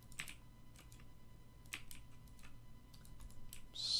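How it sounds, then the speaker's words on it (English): Loud mechanical computer keyboard typing: scattered clacky keystrokes in irregular bursts, close but at modest level, with no talking. "Sorry if my keyboard is annoying."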